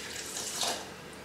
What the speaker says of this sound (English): now we have to add 100 ml of water